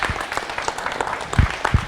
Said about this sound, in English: let's give one big more round of applause to our honoree today